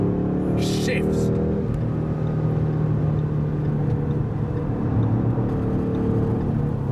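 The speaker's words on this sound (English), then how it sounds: "This is where the car shifts." A 2015 Ford Mustang GT V8 drives on the autobahn, its steady engine drone and road roar loud and close with a brief shift in tone early on, while a voice talks over it.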